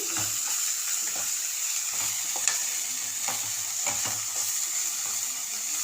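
Okra fry with chilli powder and salt being stirred in a pan, a steady sizzle with repeated scraping strokes of the spoon throughout, close and continuous.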